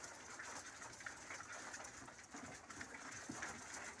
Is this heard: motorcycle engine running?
no